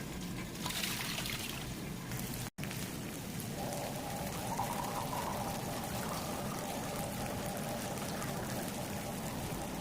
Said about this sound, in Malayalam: നമ്മൾ ഈ ജാറ് വെള്ളം ഒഴിച്ചിട്ട് റൈസിൽ ഒഴിച്ചു കൊടുക്കാം